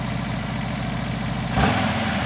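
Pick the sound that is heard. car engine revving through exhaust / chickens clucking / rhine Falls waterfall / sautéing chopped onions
car engine revving through exhaust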